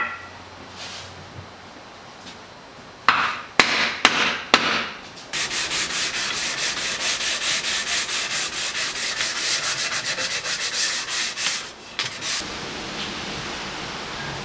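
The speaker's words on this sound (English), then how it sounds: "I got them all sanded down" Vintage pickaxe parts being sanded by hand: a few sharp knocks, then a continuous, close, rasping scrub that runs for several seconds before stopping, with a brief burst near the end.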